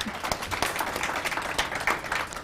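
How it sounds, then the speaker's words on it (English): An audience at a One Young World Southern Africa caucus session applauds, a brief, moderately faint spell of scattered clapping with no talk over it. "Can we give her a round of applause?"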